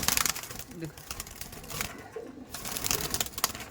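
Racing pigeons of a full sina line are let go, with soft cooing, bursts of wing flutter and rustling up close, while someone talks over much of it.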